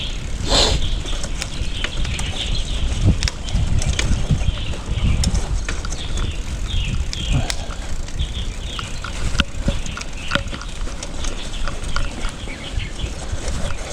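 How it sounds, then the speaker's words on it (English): Chickens and birds call around a muddy rural road in the Chinese countryside, a busy layer of clucks, chirps and scattered calls at varying distances over steady outdoor background noise throughout. "In the countryside, you can hear the chicken and the birds."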